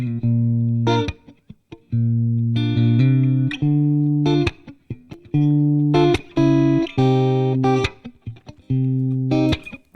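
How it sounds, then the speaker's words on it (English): Synth melody run through an Arturia analogue-style effect plugin, with a slight edge of bite and mild distortion on each note; clear separate phrases with short gaps, loud and close, with no voices. "there's a little bit of sort of what I would call bite to it now, and a very slight amount of distortion"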